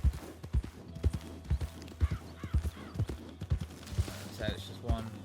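A single horse in a Wild West roleplay video game clops along at a steady trot, its hooves thudding in an even rhythm, with a brief whinny and light background noises over a low hum.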